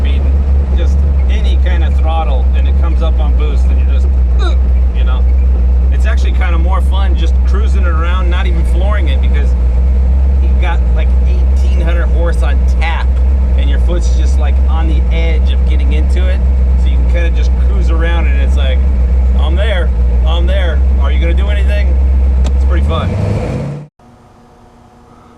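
A twin-turbo aluminum Brodix big-block 1969 Chevelle making 1870 horsepower drones loudly and steadily from inside the car for over twenty seconds, with people talking over the engine, before the sound cuts off abruptly.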